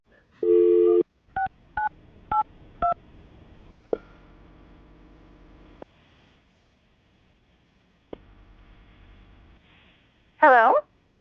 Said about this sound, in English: I'm going to dial the number right now.